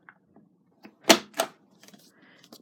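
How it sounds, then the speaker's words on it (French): A Stampin' Up envelope punch board punches the corners of paper cards, two sharp, close clacks in quick succession followed by faint handling taps in an otherwise quiet room. "Là, je poinçonne le coin des cartes"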